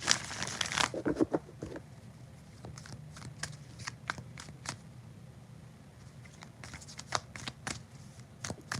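Tarot cards are handled and drawn one by one, making crisp, quiet flicks and snaps in irregular bursts, with a louder shuffle at the start.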